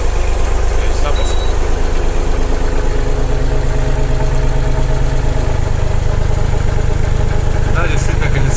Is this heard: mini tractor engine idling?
yes